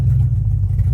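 Idling 1973 Chrysler with a 400 engine, a loud, steady low rumble close by as it is shifted into reverse, brief and without voices.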